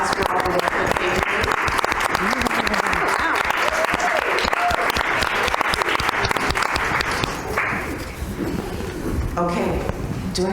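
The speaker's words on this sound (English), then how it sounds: "We can just give them a round of applause for all the work that they do." Loud, dense applause from an audience honoring committee members at a non-profit event on collaborative spaces, sustained and steady before thinning toward the end.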